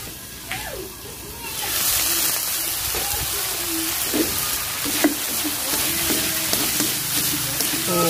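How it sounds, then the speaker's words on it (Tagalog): Sea snails with black pepper sizzle steadily in a covered pan, a continuous close frying hiss with a few light knocks and clatters. "at gigisahin lang natin ito sandali guys"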